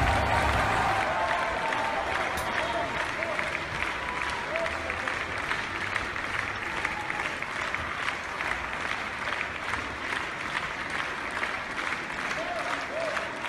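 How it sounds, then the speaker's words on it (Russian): A ballet audience gives a long ovation captured on a phone, with thick, sustained clapping from a large theatre crowd, fairly close and steady, with faint voices and cheers mixed in. "посмотрим вот эти аплодисменты,"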